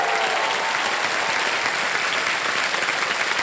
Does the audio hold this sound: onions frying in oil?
no